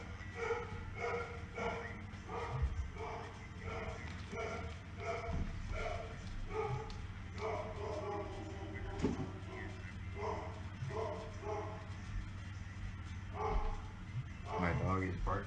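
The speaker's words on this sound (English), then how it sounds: "My dog is barking, excuse me." A pet dog barking indoors, a steady run of repeated barks and yips at a moderate distance, mostly under a person talking throughout.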